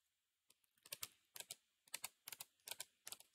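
Command being typed on a computer keyboard in a tmux terminal session: several clusters of quick, crisp keystrokes close up, separated by brief pauses, with no talking.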